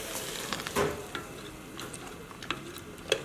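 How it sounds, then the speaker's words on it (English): Sugar stirred into a heating beer mixture in a pot, heard as soft, irregular scrapes and taps of a spoon over a low sizzle, close and alone. "I'm just constantly stirring while adding"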